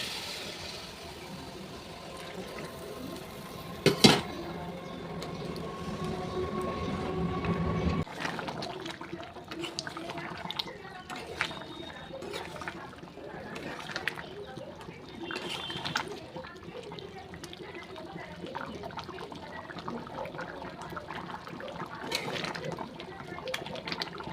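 Hot water is poured into a cooking pot of potatoes and chicken, a soft continuous liquid pour with a sharp clank early on, and a voice talking over it.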